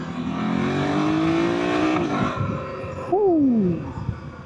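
A 2024 BMW F 900 GS motorcycle fitted with an Akrapovic exhaust rides under load, the engine droning steadily with rising pitch, then a sharp throttle blip and roaring rev that falls away, heard close from the rider's position.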